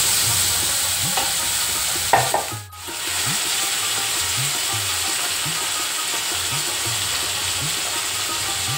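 Pomfret fish frying in hot oil in a pan, a steady close sizzle with a sharp burst and brief dip near the start, then even crackling throughout.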